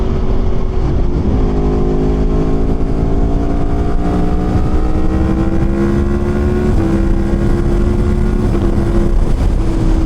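An Aprilia Tuono V4 motorcycle is ridden at speed, its engine holding a loud, steady drone with a gear change partway through and heavy wind rush throughout.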